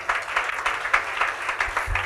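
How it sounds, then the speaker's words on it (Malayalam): A church congregation claps for a doctor, a brief burst of many hands in quick uneven rhythm, moderately close, with a low thump near the end. "ആ ഡോക്ടർക്ക് ഒരു ക്ലാപ്പ് കൊടുത്ത നിങ്ങൾ."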